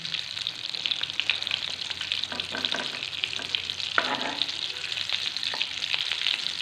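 Aloo tikki potato patties frying in a pan, a continuous close sizzle and crackle with occasional scraping stirs, no voices.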